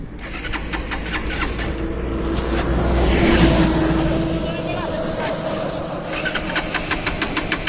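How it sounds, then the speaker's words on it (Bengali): A Hero Xtreme 200R motorcycle that has run out of fuel cranks repeatedly without catching, a close, sustained starter-and-engine churn that swells and fades over several seconds, with a person talking over it. "দেখতে পাচ্ছ পুরোপুরি তেলটা শেষ হয়ে গেছে, এখন স্টার্ট নিচ্ছে না।"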